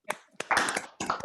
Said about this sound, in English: open the microphones to applause for all these practitioners